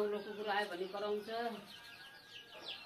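A rooster clucks in a village courtyard, giving several short, throaty calls close to the listener while someone talks alongside, and fainter bird chirps come in toward the end.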